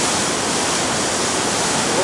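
Rushing whitewater of the Niagara Whirlpool Rapids in the gorge, a loud, steady broadband roar close by with no break.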